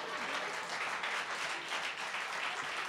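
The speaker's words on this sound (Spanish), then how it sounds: "Bueno, ya aplauden, muchachos." An audience applauds in a continuous, even wash of many hands clapping, moderately distant and steady from start to finish.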